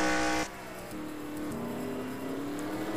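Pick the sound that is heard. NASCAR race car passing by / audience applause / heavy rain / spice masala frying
NASCAR race car passing by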